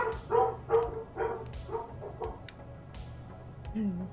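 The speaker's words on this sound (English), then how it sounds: "Noisy little pups." Small puppies barking in a quick series of yips and barks, fairly close and loud, with a brief whimpering note near the end over a low background hum.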